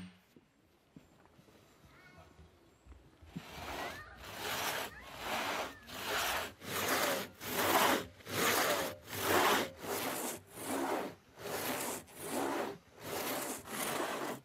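A hand saw cuts by hand through a thick log, wedged to stop the blade binding, as part of making a wooden bucket. Steady rhythmic back-and-forth rasping strokes follow a quiet start, loud and close, about one stroke per second.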